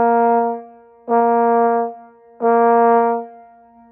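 Trombone sounding three staccato notes, each a short clear tone with a gap between, evenly spaced, close and fairly loud, played alone.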